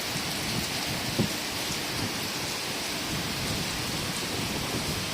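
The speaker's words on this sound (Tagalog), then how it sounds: "Ayan grabe ang lakas ng ulan" Heavy rain pours down in Macau during Super Typhoon Yagi, a dense, constant hiss with wind and one brief low thump, steady and moderately loud, no voices.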